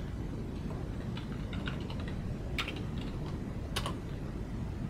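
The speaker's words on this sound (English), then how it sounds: "if I go on my web browser and type in SideScroller" Typing on a computer keyboard while entering a search into a web browser, a steady patter of light key clicks with a few sharper taps, close and moderately quiet over a low room hum.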